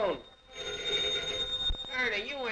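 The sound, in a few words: telephone ringing in a press room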